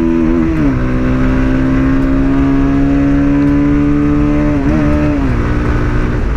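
A Bajaj Pulsar 220F motorcycle engine held high in its rev range toward 10,000 rpm on a road ride. It is a loud, steady, buzzing drone with brief pitch dips and rises near the start and again near the end.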